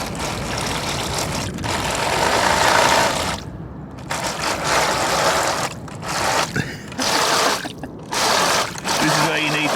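A brushless crawler motor in a cheap RC truck whines and buzzes as the wheels spin and dig in mud, loud and close, surging and cutting out in bursts.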